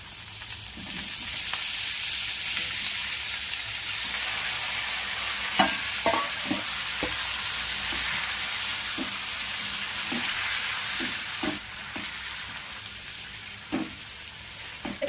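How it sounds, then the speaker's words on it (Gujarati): Tomatoes sizzle in a pan of frying onions for chutney, a steady hiss at close range, broken by soft clicks and scrapes as a spoon stirs, with no talking. "હવે આ ટાઈમે આપણે ટમેટા નાખી દઈશું"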